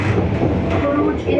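A modern tram in Qatar heard from inside while riding: a loud, steady rolling rumble and hum of the car on its rails, close and continuous throughout.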